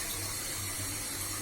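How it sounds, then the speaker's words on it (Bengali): Water poured from a measuring cup into a cooking pot for a bitter gourd and potato curry, a steady close splashing flow heard alone. "মেজারমেন্ট কাপ দিয়ে আমি পানি মেপে দিচ্ছি।"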